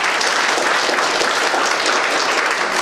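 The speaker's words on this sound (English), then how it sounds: "you have to give him a big round of applause" Steady, dense applause from a school audience at a cyber-crime awareness event, loud and continuous throughout with no pauses.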